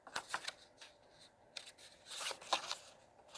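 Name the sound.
shuffling tarot cards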